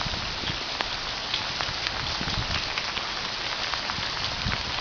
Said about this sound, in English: I'm going to show you how much it's raining outside.